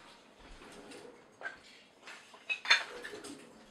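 Metal tongs clink against the inside of a pressure cooker while lifting a tender 5 lb prime rib, giving a few soft scrapes and light, brief taps, loudest near the middle, in an otherwise quiet kitchen.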